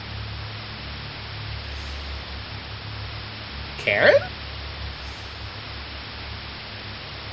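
Steady hiss of white noise static in the video game Fear & Hunger 2: Termina, a dense even wash filling the whole stretch, with a brief voice calling out once in the middle.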